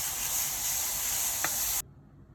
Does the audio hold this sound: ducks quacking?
no